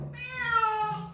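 A cat lets out a single clear, drawn-out meow while being given a bath, close and moderately loud with no talking over it.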